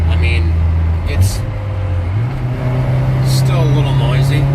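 A low, steady exhaust drone hums through the car cabin, its pitch rising slightly as the engine pulls, with faint road noise around it and brief bursts of higher hiss.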